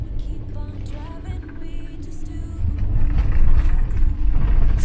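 A van drives along a road in the rain, its engine and tyre rumble steady and loud in the low range throughout, swelling slightly in the second half, with no voices.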